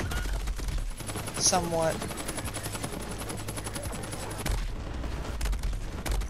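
Gunfire from a weapon in Borderlands 3 crackles in rapid bursts under continuous game noise and a voice, fairly loud and dense.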